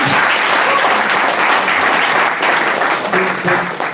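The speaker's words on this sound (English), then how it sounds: "let's make a big applause to the whole team" Dense applause from a sizable crowd at a Garage48 final event in Tashkent, loud and sustained throughout, easing slightly toward the end.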